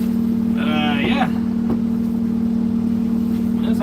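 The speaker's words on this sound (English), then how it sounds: "That sounds like a rig right there" A semi truck engine, likely a steel-mill hauling rig, rumbles steadily at a car-crushing yard, with a brief higher rising whine partway through under ongoing background noise.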